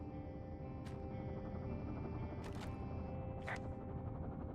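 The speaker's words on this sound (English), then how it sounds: "There's my heli." Helicopter in the video game Firewatch, a low, steady rotor and engine drone held at constant level throughout, with a few brief higher clicks on top.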